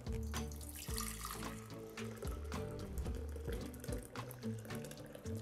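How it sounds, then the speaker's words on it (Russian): Water left over from grated potatoes is poured into a glass while potato pancakes are prepared, a steady splashing trickle that runs throughout at close range, with no voices. "Мы ее сейчас для наглядности перельем в стеклянный стакан."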